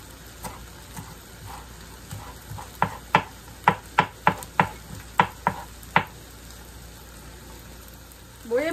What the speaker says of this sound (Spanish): También aquí estoy picando un poco de cilantro que le vamos a agregar también.